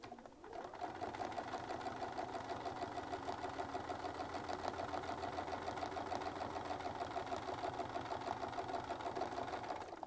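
A sewing machine stitches steadily along a Westalee Spin-E-Fex ruler, its even, close-up mechanical whir running without a break for the whole stretch with no voices.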